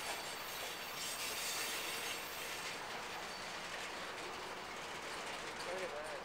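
A BNSF freight train rolls past at close range, a steady broadband rumble of wheels and cars with faint clickety-clack and brief wheel squeal, while people talk nearby.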